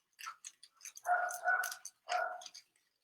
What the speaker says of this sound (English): And there's my dog again.